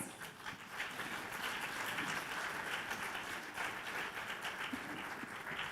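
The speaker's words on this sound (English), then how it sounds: "I would like to ask for an applause for both speakers." Sustained applause from a conference opening ceremony audience, a steady wash of many hands clapping at even loudness for several seconds.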